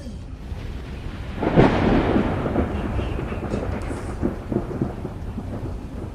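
A Midwest thunderstorm: a loud thunder crack breaks over steady rain and then rolls on, with further rumbles and gusts of wind, no voices.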